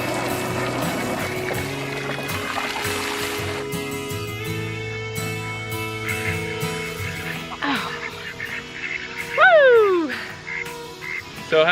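Ducks quack several times, louder and rising near the end, over a dense bed of music-like tones, as the dirty ducks are put up for the night.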